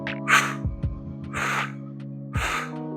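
Forceful exhalations in a mobility session, three distinct breathy bursts with the belly drawn in, close and clear over a sustained low tonal background, no talking.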